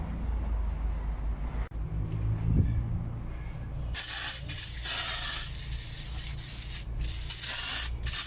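Pressurized water jet blasting mud off boots and a bike on the ground: a steady, close, bright hiss of spray that kicks in partway through after quieter handling noise, with brief gaps as the jet is redirected.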